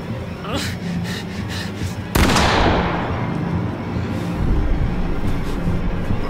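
A single sharp gunshot in the horror video game The Quarry cracks out abruptly and rings off into a long noisy decay, with game sounds and rumble continuing underneath.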